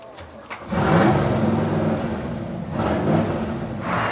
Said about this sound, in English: And that's what a real car sounds like.